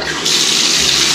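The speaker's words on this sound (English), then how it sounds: "Let's turn on the water." Water gushing from a tap into a bathtub, a loud, close, steady hiss that switches on abruptly a moment in and runs continuously.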